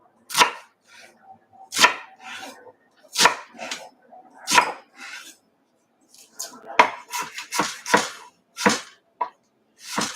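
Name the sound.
knife chopping onion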